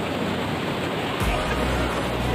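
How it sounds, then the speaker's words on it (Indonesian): Rushing surf crashes in a dense, loud wash of noise, with a heavier surge partway through, at Carita Beach. "Wow, ombaknya deras."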